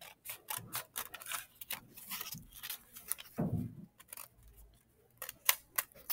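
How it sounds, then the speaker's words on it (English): Close, crisp snips of scissors cutting through stapled sheets of paper for a foldable, repeated irregular cuts with small rustles between them, no talking. "I'm going to cut along my lines on either side, but my papers are staying together because I've stapled them."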